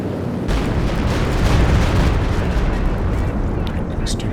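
Stuka dive bomber strikes pound a base in Company of Heroes 2, a dense roar of overlapping explosions and booming impacts that stays loud throughout.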